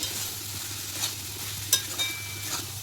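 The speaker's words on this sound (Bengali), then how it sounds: "লাউ তো, তাই অনেক জল উঠে। একটু নেড়ে চেড়ে নিচ্ছি।" Bottle gourd and chickpea curry cooked uncovered in a pan, stirred with a spoon: a steady soft hiss and bubbling under a few brief scraping strokes and one sharp clink near the middle, with no speech.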